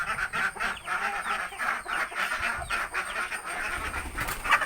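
Ducks and chickens in a large backyard coop on a small village farm in Kerala, giving a steady overlapping chorus of honks, quacks and clucks, near and continuous with no talk.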